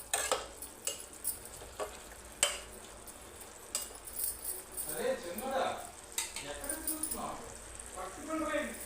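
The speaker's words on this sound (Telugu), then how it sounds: "ఇప్పుడు కొంచెం హై ఫ్లేమ్లో పెట్టుకొని ఫ్రై చేసుకోండి" Mutton curry with potato frying in a pan on high flame, with a spoon stirring and clinking against the pan over a steady sizzle, close by, as a voice speaks intermittently.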